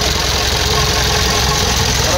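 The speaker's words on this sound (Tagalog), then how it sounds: "Kasi mahirap anda rin, saka palyado ang makina." A Mitsubishi Canter truck's 4M50 diesel engine runs rough and misfires, its loud, uneven knocking churn steady and close, with some talk mixed in.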